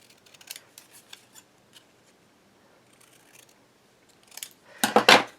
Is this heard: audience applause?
no